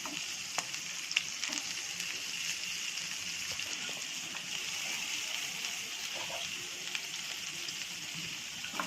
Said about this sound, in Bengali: সব ক্যাপসিকাম কেটে টুকরা করে দিয়ে দিচ্ছি, হালকা ভেজে নিব